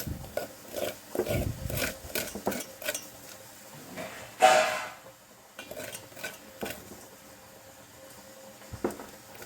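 A vinegar paste is rubbed over the burnt bottom of a milk vessel, giving close, intermittent scraping and scrubbing strokes with a few clinks of metal and no talking.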